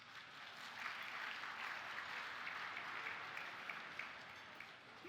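A conference audience claps steadily in a large hall for about five seconds, a broad even wash of applause at moderate volume with no talk over it.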